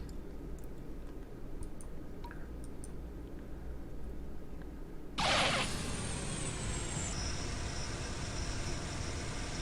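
Jet aircraft engine in the flight simulator game Fly!2K, a steady low drone that jumps to a loud roaring whoosh midway, then settles into a sustained whine with a falling high tone.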